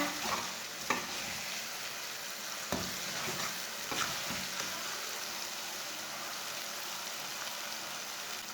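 Tomatoes cook in a frying pan for chicken pota, a steady sizzle with a few soft stirring knocks, close and alone with no talk.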